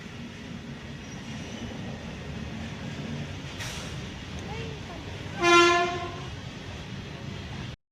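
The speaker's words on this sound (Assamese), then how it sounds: "এতিয়া ট্ৰেইন এখন আহিছে" A train approaches and sounds its horn once in a loud, sustained tonal blast near the end, over a steady rumble of the passing rail cars.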